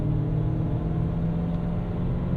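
Steady low engine drone from a 1998 Lexus GS 400 with its V8 pulling under acceleration, a continuous close rumble with a slight rise in pitch and no talk.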